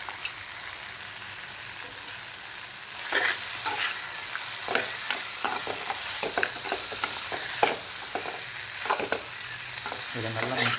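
Garlic frying with dried fish thokku in a hot pan, a steady sizzle throughout, joined after a few seconds by repeated scraping stirs of a spoon against the pan at an uneven rhythm.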